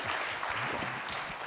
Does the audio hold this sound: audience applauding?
yes